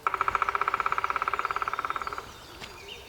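A black woodpecker drums a rapid, even burst of about forty strikes lasting two seconds, fading slightly at the end, followed by quiet forest air.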